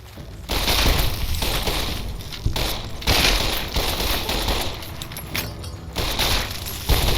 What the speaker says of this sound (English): Got an early assault rifle and some ammo.